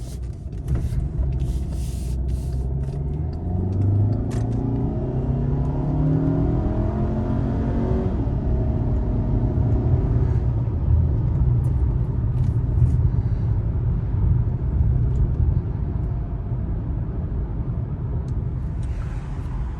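A 2015 Volkswagen Passat with a turbocharged 1.8-litre four-cylinder engine drives along, a steady low rumble of engine and road noise with rising revs as it accelerates early on, no talking.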